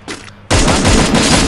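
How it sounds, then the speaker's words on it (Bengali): Gunfire in the mobile shooter Free Fire: a short quiet lead-in, then a loud, dense burst of rapid shots that keeps going without a break to the end. "তিনটা ফায়ার করছি, তিনটা ফায়ারই হেডে লাগছে"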